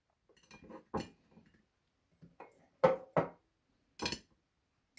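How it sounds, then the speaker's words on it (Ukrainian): Pieces of eggplant placed onto a layer of onion in a glass jar for a marinated layered salad with mushrooms and tomatoes; a few sharp, separate clinks and knocks at irregular intervals, close by, with quiet gaps between. "Тоді на цибульку ложу кусочки баклажану."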